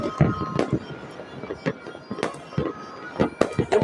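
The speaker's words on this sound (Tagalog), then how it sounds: "Yung fireworks nila parang pang SM na." Fireworks display over mountains in Baguio, a string of sharp bangs and crackles at varying distances, some loud pops close together, with faint voices in the background.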